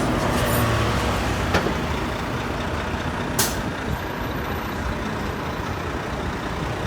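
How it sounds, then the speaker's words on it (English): An express bus with air brakes on 42nd Street in New York rumbles amid steady street traffic, with a few sharp pneumatic hisses and clicks standing out over the continuous roar. "Got the express bus."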